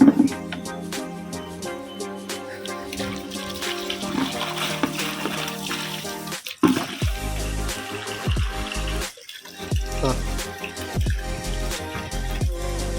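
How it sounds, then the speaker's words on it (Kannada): Water runs into a 20-litre tub, a steady splashing pour with intermittent trickles and drips, loud and close, with no talking. "ಒಂದು ಟಬ್ಬಿಗೆ ನಾವು ಫಸ್ಟ್ ನೀರು ಹಾಕೊಳ್ಳೋಣ."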